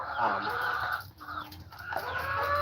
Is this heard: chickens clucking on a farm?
yes